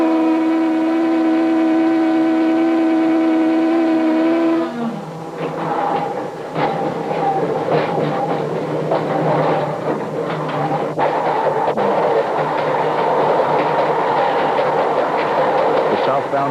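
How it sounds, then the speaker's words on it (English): A 1945 Chicago North Shore Line Electroliner electric train passes close by, a sustained horn tone giving way to rushing wheel clatter and rumble that fills the rest of the scene. "The southbound electroliner streaks past us, headed for Chicago."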